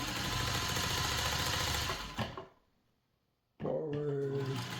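A Singer 301 sewing machine runs steadily for about two seconds while stitching in reverse, then stops briefly before whirring back up loudly and close, with no talk.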